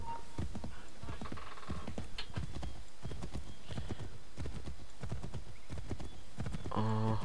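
Horse hooves gallop in the Assassin's Creed 3 video game, a fast, steady clip-clop rhythm running throughout, with a brief whinny-like tone near the end.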